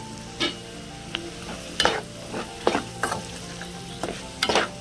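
Rajma curry fries in hot oil in a village-style kitchen, a low steady sizzle broken by several sharp scraping stirs of a spoon in the pan, close and clear with no voices.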